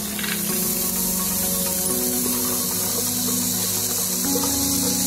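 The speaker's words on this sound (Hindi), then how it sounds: "हल्दी के साथ चना दाल को भी एक मिनट तक भून लें" Washed chana dal and turmeric fry in a yogurt-based spice masala for a spicy taro curry, giving a steady, close sizzle throughout with a low tonal hum underneath.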